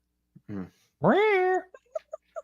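A cat meows in a scene from the 1999 film The Mummy, with one drawn-out, rising meow following a shorter cry, then a few soft clicks and taps.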